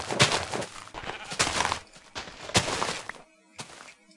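Sheep bleat in the video game Minecraft, several short, close calls in quick succession with faint footstep-like sounds between them.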